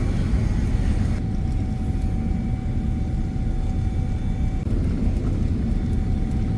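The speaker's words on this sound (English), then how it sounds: "So now we are taking off from Singapore to Dhaka" Singapore Airlines plane taking off from Singapore, heard from inside the cabin as a steady, loud broadband engine roar that holds evenly throughout, with no talking.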